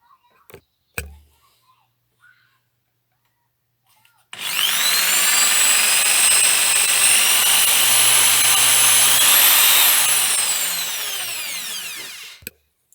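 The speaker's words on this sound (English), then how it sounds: "I'll just do that now on my homemade pillar drill" A couple of faint knocks, then a homemade pillar drill whines up loudly and runs steadily for about eight seconds boring a hole in wood, its pitch shifting slightly before winding down.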